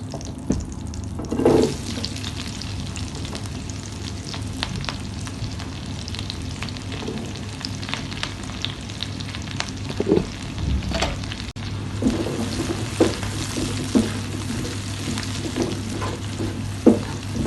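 Onions fry in melted butter in a pan as the base for paneer butter masala, a continuous sizzle broken by stirring scrapes and clatters, moderately loud and close.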